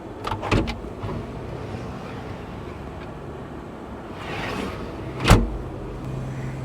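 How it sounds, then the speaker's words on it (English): Sunroof overhead in the cab of a CAT 330 excavator opened by hand, a couple of quick clunks and a short sliding rattle, then a firmer latch knock, over steady low cab hum. "Nice little sunroof here. This opens up. This comes up."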